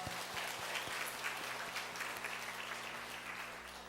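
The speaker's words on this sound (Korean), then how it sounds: "우리 다시 한번 큰 박수로 영광 올려드립시다" A church congregation applauds after a hymn of praise, many hands clapping in a dense, sustained burst over a low organ or keyboard hum, continuous and full throughout.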